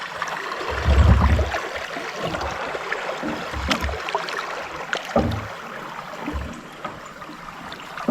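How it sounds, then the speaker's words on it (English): Water rushes and gurgles around a kayak on a Florida spring-fed river, a steady broadband wash with a few louder low thumps and splashes near at hand. "You hear the sound of that water?"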